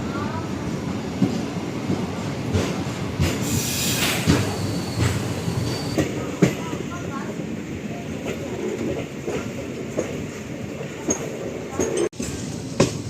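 Passenger train pulling out of Mayiladuthurai Junction in the morning, heard from on board as a continuous rolling rumble with clicks, clanks and occasional sharp knocks, plus faint squeals, while a voice talks over it.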